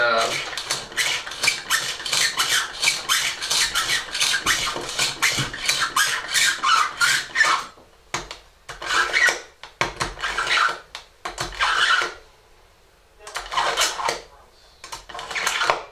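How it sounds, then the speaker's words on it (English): A knife is drawn across a knife sharpener in quick, repeated rasping strokes, followed by slower, separate strokes with short pauses between them. "This is a knife sharpener"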